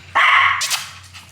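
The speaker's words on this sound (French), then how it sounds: "elle aboie à chaque fois qu'il y a un tracteur qui passe" Tara, a pet dog, lets out a single loud, close bark with a sharp onset that tails off into a brief yelp, with no talking.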